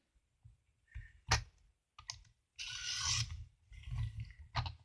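A paper trimmer slices the corner off a folded card, giving a few short mechanical clicks and sliding scrapes, then a sustained swish of the blade through the cardstock near the mic.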